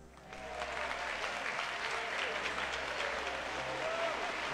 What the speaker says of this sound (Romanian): Haideți să-i aplaudăm.